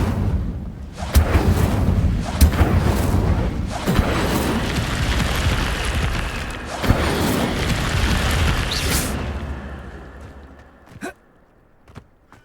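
Fire spells cast in Hogwarts Legacy, with repeated loud booming, whooshing bursts of flame layered densely over several seconds, then trailing off into two sharp, isolated hits near the end.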